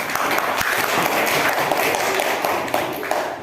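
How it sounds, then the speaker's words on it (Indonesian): Classroom applause for a student group during a school lesson, a dense, steady wash of many hands clapping together at close range for the whole stretch, with no speech over it. "Sekali lagi tepuk tangan buat kelas kelompok A."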